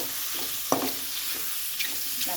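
Mushrooms fry in about three spoons of ghee for a mushroom curry, giving a steady close sizzle broken by a few scraping stirs of a spoon, with no talking.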